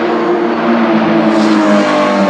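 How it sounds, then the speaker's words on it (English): A 2016 Porsche sports car's engine roars loud and close, a sustained throaty growl that swells slightly as it revs, with no voices over it. "I love the friggin' sound of that. I think it's a Porsche 2016"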